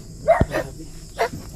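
A dog gives two short barks, a sharp one followed by a second a moment later, at moderate distance, with crickets chirping faintly in the background.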